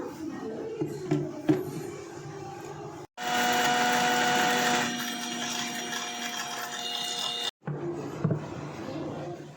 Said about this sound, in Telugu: మిక్సీలో వేరుశనగలు, నువ్వులు కలిపి గ్రైండ్ చేసుకుందామండి మెత్తగా